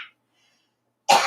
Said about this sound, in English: Sorry, I didn't mean to cough before.